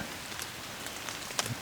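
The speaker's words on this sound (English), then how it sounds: "It's kind of raining a little bit, as you can hear." Light drizzle patters in the woods at the edge of a food plot during a spring turkey hunt, soft scattered droplets ticking faintly over a steady hiss, with no voices.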